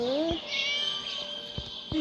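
A cat meows a few times indoors, its cries rising and falling, close by, with people talking over and around it.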